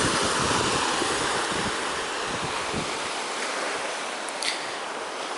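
Fairly big ocean waves off a tourist island in winter roll and wash steadily as a broad, loud rush, with wind buffeting the microphone and no voices.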